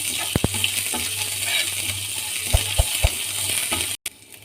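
Garlic-ginger paste and half a spoon of cumin fry in hot oil for a vegetable paratha roll, giving a continuous bright sizzle broken by a few sharp spoon clinks as the mix is stirred.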